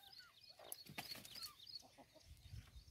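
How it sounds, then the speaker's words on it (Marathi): Chickens struggle to get out of their coop, giving faint, scattered clucks and squawks against quiet farmyard background sound. "कोंबड्या कशा बाहेर येण्यासाठी धडपड करतात"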